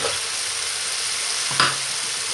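Hot oil bubbles and sizzles steadily in a pan, a close, even hiss, and near the middle a short burst of louder crackling rises as rice goes in.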